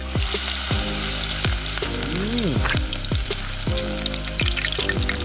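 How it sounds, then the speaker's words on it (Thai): Dok din flowers deep-fry in hot oil, a dense continuous sizzle with occasional bubbling pops and a few scraping stirs, close and fairly loud. "เดี๋ยวเราจะมาทอดกันเลยนะครับทอดดอดดินกันเลยครับคุณผู้ชม"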